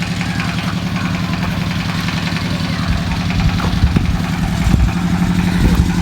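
A tractor engine runs nearby with a steady, throbbing low rumble that builds slightly and rattles now and then, alone without speech.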